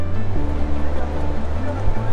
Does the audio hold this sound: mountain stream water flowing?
yes